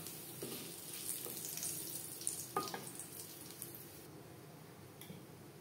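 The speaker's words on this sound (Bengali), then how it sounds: "ফোড়নে দিয়ে দিলাম গোটা জিরে, একটা তেজপাতা।" Whole cumin seeds and a bay leaf sizzle in hot oil in a pan: a soft, fairly quiet crackle with a few sharper pops and clinks near the middle.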